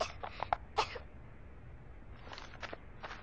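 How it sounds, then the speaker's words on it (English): A woman in the video game I Am Alive coughs in short, close bursts, with a cluster of rough coughs followed by a pause and then a few more, set against quiet background noise. "She's coughing. Probably from the dust."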